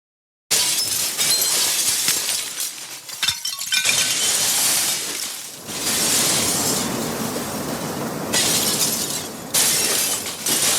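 A tiered stack of water-filled glasses crashes down in a long, loud cascade of shattering and tinkling glass, with repeated bursts of breakage and scattering shards, no talking.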